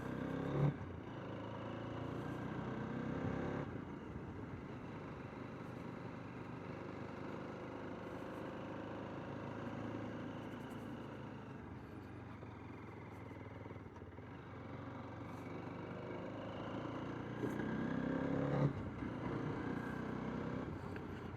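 A motorcycle engine hums steadily while riding on the highway from Bangalore to Penukonda Fort, a low, continuous drone with brief shifts in pitch, fairly close but muffled.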